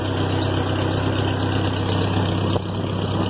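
An old hay-raking tractor engine idles steadily with its muffler on and leaking gaskets, a constant low rumble and throb that stays loud and close throughout with no talking.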